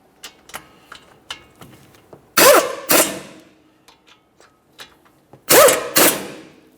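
A tool snugging the hub mounting bolts on a 2015-2019 Subaru Outback during a front wheel bearing and hub replacement: light ratcheting clicks, then two pairs of loud, close mechanical bursts.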